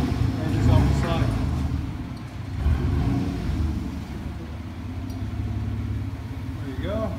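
A 2006 GMC Sierra with a 4.3 V6 and Flowmaster Super 10 muffler rumbles with a deep, steady exhaust drone, swelling briefly as it revs, while people talk over it.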